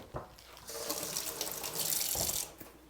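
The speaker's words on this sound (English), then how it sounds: "gotta rinse my fingers off there a little bit" Tap water runs steadily into a sink as fingers are rinsed, a close hissing splash that swells and fades over a few seconds with brief clatters at the start and end.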